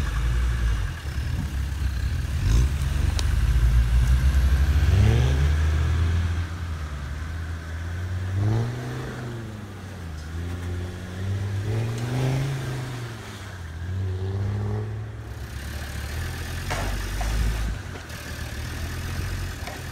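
A red Bruder Land Rover toy jeep drives along with an engine sound that revs up and down in repeated swelling sweeps over a steady low rumble, fairly loud and without talk.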